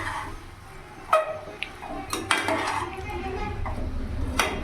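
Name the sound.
stirring mushrooms with spices in a pan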